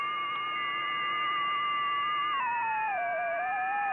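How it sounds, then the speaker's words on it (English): FT4 digital mode signals from an amateur radio receiver: steady, layered electronic tones that hold for a few seconds, then glide downward into a wavering pitch, loud and alone with a faint hiss behind. "this is another mode called FT4"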